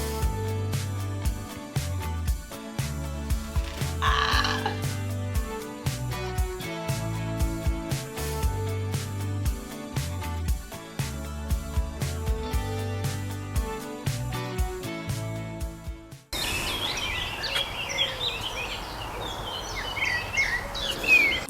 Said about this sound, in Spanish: No sé si se alcanzarán a escuchar todos los pajaritos, pero están todos cantando.